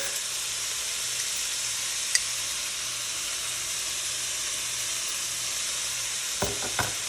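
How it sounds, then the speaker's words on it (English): Ground beef with chopped garlic and a teaspoon of sugar sizzles in a pan with a steady, close frying hiss, a few faint clinks, and utensil scrapes near the end. "we're gonna incorporate all of this and break up our ground beef and cook this for approximately about 4 to 6 minutes"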